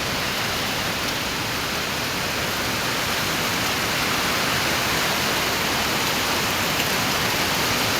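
Heavy rain pours down in a steady, dense roar with no pauses, loud and close, filling the whole stretch with no voices.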